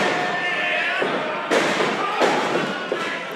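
A double clothesline lands in a four-way wrestling match with Teddy Hart, giving several sharp thuds and slaps over a constant roar of the arena crowd.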